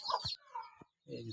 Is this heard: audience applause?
no